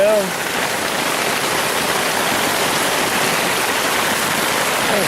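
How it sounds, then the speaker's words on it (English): Heavy rain pours steadily and loudly on a camping shelter during a three-day field test, a dense, unbroken hiss throughout, with a brief voice at the very start. "I'm sure you can probably hear that it is raining a whole lot more now."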